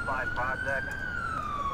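Ambulance siren in the video game GTA IV, a steady loud wailing tone sliding slowly up and down throughout, close by, with faint vehicle and game noise beneath.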